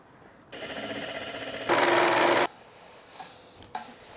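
A sewing machine runs a seam along a blouse underarm in two bursts, a steady whirring stretch followed by a louder, faster run, then stops, leaving a couple of faint clicks and handling noises.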